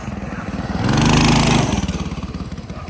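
A big block mini bike engine chugs roughly at idle with an uneven, pulsing beat and a short rev swell in the middle before settling back to a lumpy, struggling idle, close and loud.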